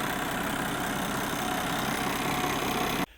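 A John Deere 6115D tractor idles with a steady, dense mechanical drone close by, unbroken and even for about three seconds before cutting off abruptly.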